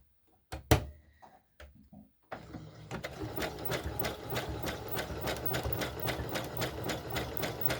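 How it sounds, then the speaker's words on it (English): A sewing machine runs a very fine zigzag stitch on a doll bodice, starting after a few handling clicks and then running steadily close by with a regular rapid needle rhythm. "I'm going to change my machine to a very fine zigzag stitch. And we're going to go ahead and sew this on."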